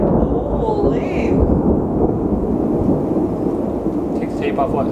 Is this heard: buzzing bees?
no